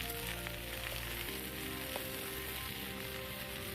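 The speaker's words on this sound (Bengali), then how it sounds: "এখন শাক ভাজব" Leafy greens frying in a wok over a wood fire, a dense steady sizzle and crackle with a few faint clinks of the utensil, close and unbroken, no talking.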